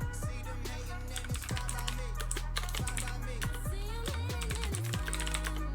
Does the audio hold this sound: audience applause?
no